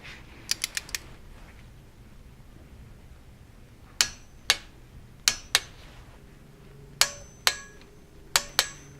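Torque wrench clicking on the head bolts of a Honda Civic EF, tightened to 14 in a set sequence: a quick burst of four clicks, then sharp ratcheting clicks in pairs, close and distinct over a quiet garage background.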